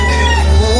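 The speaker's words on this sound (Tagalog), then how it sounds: "Mga manok." Chickens on a farm clucking and crowing steadily and close by, fairly loud with a low constant background hum underneath, no talking.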